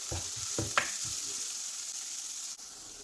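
Green chilies, crushed garlic and a small piece of ginger sauté in a hot pan, a steady close sizzle with a few brief stirring scrapes near the start.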